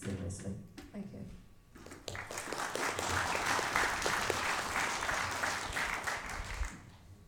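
A crowd at a general election hustings in Kettering breaks into sustained applause after a short spoken stretch, a broad, steady wash of clapping that holds for several seconds before fading.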